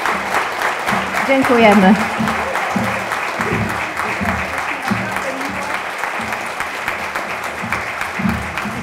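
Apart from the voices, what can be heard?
audience applause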